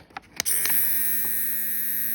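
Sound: men's electric shaver running

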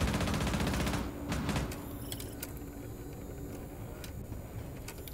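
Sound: gunfire from Frost in Rainbow Six Siege video game

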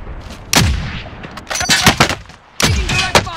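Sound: gunfire in Call of Duty Warzone video game

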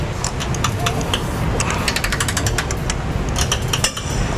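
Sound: tightening Ford E-series van trailer hitch bolt with a socket

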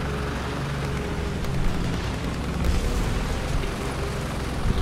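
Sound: tank destroyed explosion in video game War Thunder

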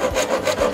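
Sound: handsaw cutting wood

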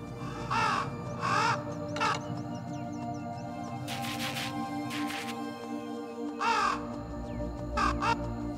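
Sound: crows cawing in a video game

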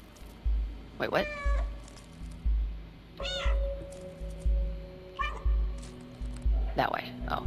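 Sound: cat meowing in the video game Stray

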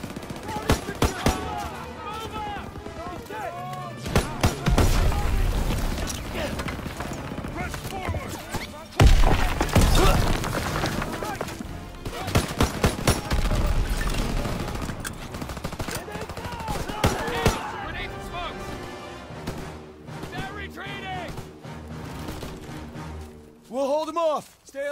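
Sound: gunfire in video game Call of Duty WWII

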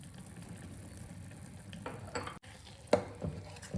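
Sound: stirring fenugreek powder into ginger thokku in a pan

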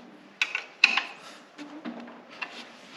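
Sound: wrench tightening bolts on Husqvarna AWD wheel assembly

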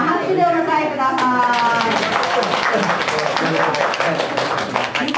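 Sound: audience applause welcoming a guest

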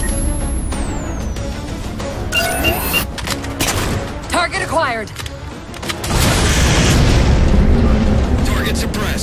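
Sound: railgun firing in video game

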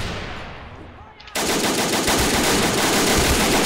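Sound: gunfire from the video game Men of War: Assault Squad 2

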